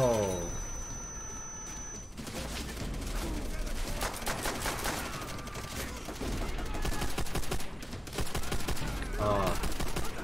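Dense, sustained gunfire rattles through a Call of Duty: World at War campaign battle, with rapid automatic bursts and overlapping shots. Game voices and effects sound between the volleys, and the fire stays loud and close throughout.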